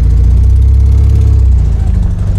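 A freshly rebuilt car engine, still cold, idles loudly and steadily up close with a rough, rumbling, tractor-like chug throughout.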